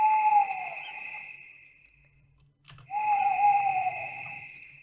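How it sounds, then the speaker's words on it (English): Night ambience in a video game: a steady high insect-like trill with a falling hooting call, broken by a short pause and a click, then resuming with the same sustained drone and hoot. "And of course the nighttime is crickets and an owl."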